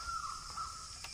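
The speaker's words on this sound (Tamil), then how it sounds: "குருவி கிளிகளோட சத்தம்லாம் கேட்குதா உங்களுக்கு?" Crows caw a few times against a steady outdoor chorus of sparrows, parrots and insects among areca palms near a hill temple, with a faint high whistle running through; no one speaks.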